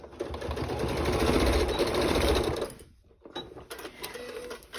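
A sewing machine runs close up, stitching a seam on a fabric basket with a 3/8 seam allowance, a fast steady whirring for about two and a half seconds, then stopping, followed by faint handling clicks.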